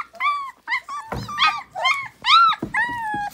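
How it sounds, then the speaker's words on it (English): A 21-day-old puppy gives a string of close, high whining yips and rough little growls, about six short bursts separated by brief gaps. "This one is growling."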